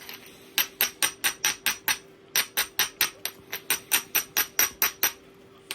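Stone biface point edge being ground by hand, a rapid regular series of sharp clicking strokes about three per second, close and fairly loud, with one brief pause.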